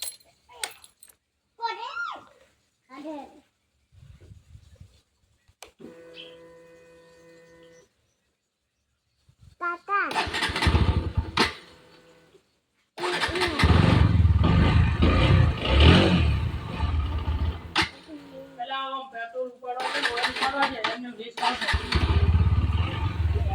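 People talk quietly at first. Then a motorcycle engine starts up close by and runs loudly, revving and chugging, with short pauses and voices between.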